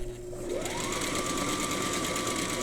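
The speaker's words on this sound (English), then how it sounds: "I line up my patch with the edge of my presser foot, and I just start sewing" Sewing machine running steadily while stitching a patch with fancy stitches, a continuous close whirring hum with a rising motor pitch at the start, and no pauses.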